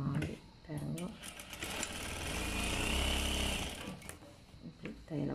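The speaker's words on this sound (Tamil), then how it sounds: "இதுக்கு மேல அப்படி ஒரு தையல போட்டு விடுவோம்" Sewing machine stitching a seam on a pinafore, its rapid mechanical chatter running steadily for several seconds while a voice talks over it.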